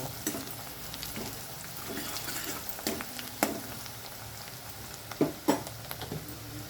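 Onions fry in a pan with a steady low sizzle as turmeric goes in, for a pulusu curry of elephant foot yam, with a few sharp stirring clatters and taps near the end.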